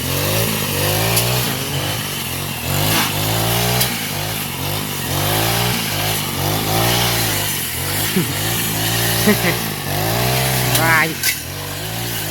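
A petrol grass trimmer runs in an employer's garden, its engine droning continuously and rising and falling in pitch as the throttle varies, with someone talking over it.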